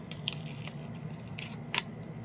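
Small scissors cutting paper in a few quick snips, with two short bursts of crisp clicking close by over a quiet room.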